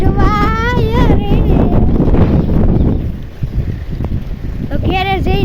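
Strong wind buffets the microphone during a bicycle ride, heavy low rumbling gusts with a person talking loudly over it at the start and end.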